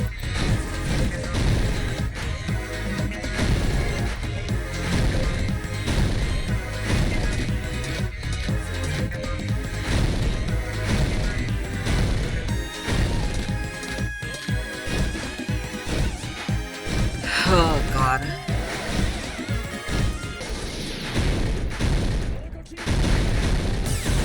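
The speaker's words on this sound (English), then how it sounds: "Just let this one explode." Explosions and crashes in the video game Danganronpa: Goodbye Despair burst out in repeated loud booms and impacts over busy game audio, with talking mixed in throughout.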